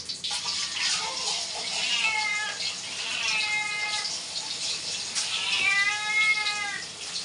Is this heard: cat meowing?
yes